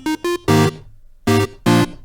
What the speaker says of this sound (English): Switching over here to the square wave oscillator.